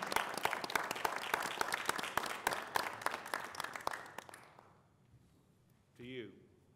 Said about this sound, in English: We're still clapping.